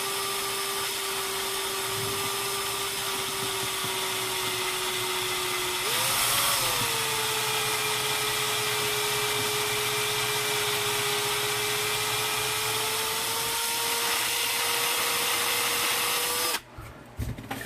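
An electric drill whines steadily for about sixteen seconds, boring a pilot hole into the body of an ES-335-style Hohner guitar, its pitch shifting slightly partway through before it cuts off abruptly.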